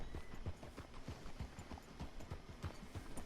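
Horse hooves clip-clop in a western video game, a steady, even rhythm of soft muffled hoofbeats on a dirt street, fairly quiet and continuous with no talk over it.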